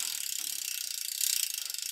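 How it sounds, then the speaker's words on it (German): Shifting up the cassette with a wireless derailleur on a rebuilt old road bike gives a steady, fast mechanical ratcheting tick, close and clear, with no talking over it. "Schalten wir mal hoch auf der Kassette."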